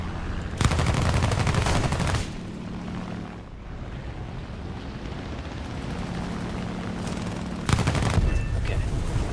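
Sustained machine gun fire from a fighter aircraft in War Thunder air combat, loud, rapid bursts over a constant engine drone, with a long stretch of engine noise between the opening and closing bursts.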